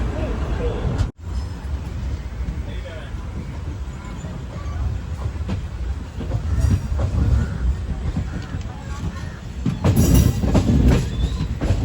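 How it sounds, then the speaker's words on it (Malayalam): The Maveli Express sleeper train rolls out of Mangaluru on the Kerala line, heard from on board as a low rumble, with wheel clatter and squeal building louder toward the end while someone talks faintly beneath. "ഇപ്പോഴാണ് ട്രെയിൻ ഇവിടുന്ന് എടുക്കുന്നത്."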